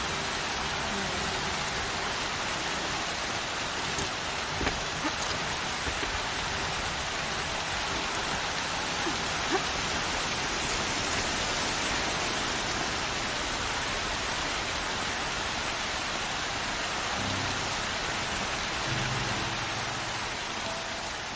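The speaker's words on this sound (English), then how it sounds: "Not gonna hear a thing over this storm." Dense, steady rainstorm hiss in Horizon Zero Dawn, a continuous wash of heavy rain with scattered drop patters throughout and no clear voices.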